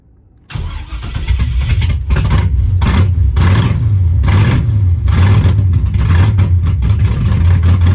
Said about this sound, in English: This is me with my foot on the gas. For whatever reason, it won't idle, and that doesn't sound too good.